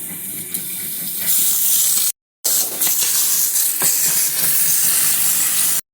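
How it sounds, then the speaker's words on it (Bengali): A pressure cooker cooking mung dal with mixed vegetables lets out a loud, steady steam hiss like a whistle, broken by a short silent gap midway and then resuming at full strength until it stops near the end. "আমার একটা সিটি উঠে গেছে, আর একটা সিটি উঠছে, নামিয়ে নেব এখন।"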